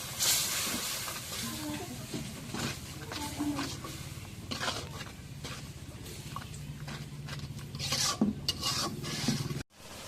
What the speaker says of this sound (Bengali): মশলা একটু নাড়া দিয়ে দিই।